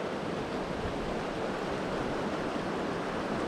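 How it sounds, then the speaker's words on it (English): Shallow, smooth creek water rushes steadily over stones on Boulder Creek, Colorado, a continuous close, even flowing hiss with no breaks or voices. "This is pretty smooth, shallowish moving water here"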